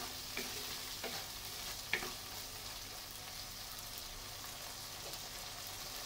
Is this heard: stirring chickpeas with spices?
yes